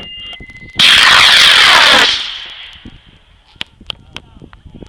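A model rocket motor ignites and roars loud and close for about a second, then fades as it climbs away, with scattered small noises and clicks in the quiet afterward.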